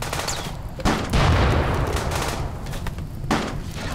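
Bursts of gunfire in the colony-sim game RimWorld during a raid, several loud broadband shots in quick succession against steady game background noise.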